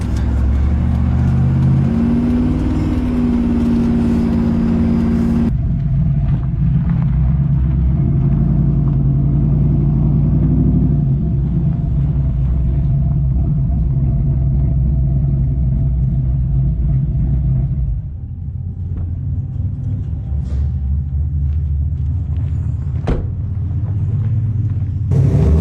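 A Joe Gibbs Silverado truck rumbles loudly on the street, its engine droning heavy and steady for a long stretch with a brief drop in intensity partway through.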